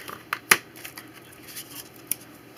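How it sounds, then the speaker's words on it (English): Hand scissors cut out a paper card shape with a few quiet, crisp snips, one clearly stronger than the rest, close by and alone. "So you can cut it out like that"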